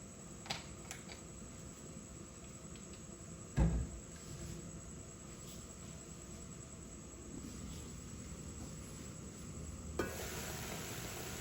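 Fish frying in coconut cooking oil, a steady close sizzle with faint stirring and a couple of brief clatters, no talking.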